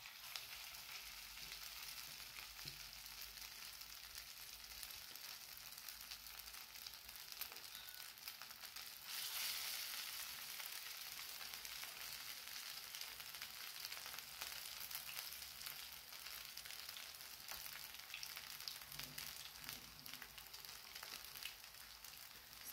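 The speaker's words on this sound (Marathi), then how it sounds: "स्लो गॅस करायचा आणि त्यावरती हा वडा तळून घ्यायचा आहे।" Moong bean vadas, made from fresh green moong pods, fry in oil over a low gas flame, giving a continuous soft crackling sizzle that stays fairly faint and even throughout, with no talking.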